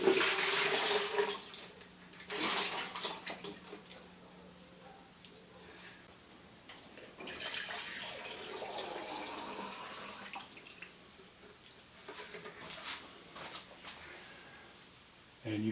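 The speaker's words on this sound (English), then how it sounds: "I pour the liquid in my mold" Liquid pours out of a casting mold into a container, a soft splashing and trickling in several bursts with quieter pauses between, fairly faint and close.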